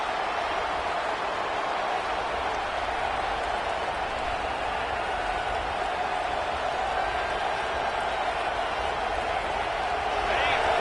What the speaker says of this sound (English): Big noise in the big house for this huge third down play.